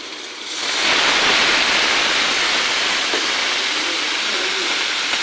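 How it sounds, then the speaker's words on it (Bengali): Water poured into a hot pan of raw jackfruit, potato, onion and garlic curry with spices, setting off a loud, steady hissing rush that swells quickly and holds evenly throughout. "আগে কাঁঠালগুলা পাপ দিয়েছি অল্প করে একটু জল দিয়ে দেবো"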